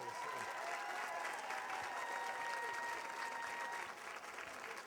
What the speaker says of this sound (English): please also reserve one final round of applause for all these cheerful volunteers who do this